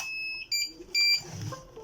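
Birch receipt printer emitting error beeps: a few short, fairly faint high-pitched electronic tones in brief pulses, with mechanical noise underneath.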